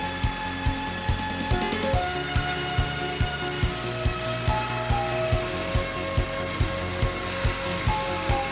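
An air sander working over a dented car body panel, giving a rapid, rhythmic rattling buzz with regular sharp pulses about twice a second, close and continuous with no talking.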